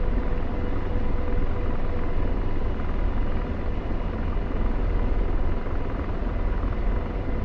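A helicopter flying close by, its rotor noise a loud, steady, dense rumble and chop that holds without break throughout.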